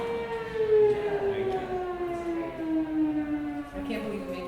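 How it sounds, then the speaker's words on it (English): A steady, wailing siren drones at a sustained pitch that slowly slides lower, heard from a distance during a trustees meeting, with faint background noise and murmuring. "I can't believe you made me talk over that siren."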